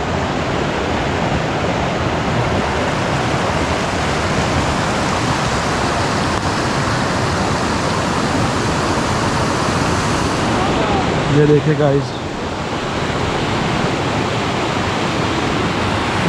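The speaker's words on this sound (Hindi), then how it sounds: "कितना ज़बरदस्त पानी आ रहा है" Mountain stream in Leepa Valley, Azad Kashmir, rushing loudly and close by in a dense, unbroken roar, with someone speaking briefly over it near the end.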